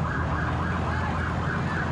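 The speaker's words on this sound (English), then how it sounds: "It's almost impossible to compete with those sirens." Wailing emergency vehicle sirens sweep up and down loudly and continuously through a Mardi Gras parade in New Orleans, with dense crowd and traffic noise underneath.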